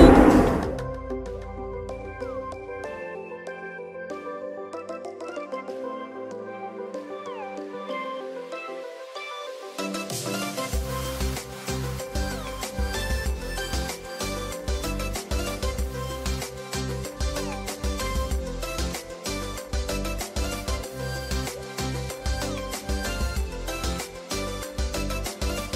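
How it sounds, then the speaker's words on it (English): Loud, steady machinery roar fills a cargo ship's emergency generator room, a constant mechanical drone with dense broadband noise that swells after a quieter opening. "So now we are going to our emergency generator room. It's a little noisy."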